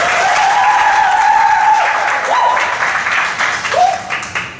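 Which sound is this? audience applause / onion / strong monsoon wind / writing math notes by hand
audience applause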